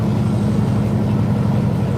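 A truck engine climbing a steep grade hums steadily and loudly from inside the cab, a dense continuous drone with a slight rise in revs as the driver downshifts.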